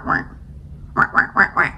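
Playful duck quacking in a children's nursery rhyme performance, one quack then four quick quacks in a row, close and clear, likely a human voice imitating the duck.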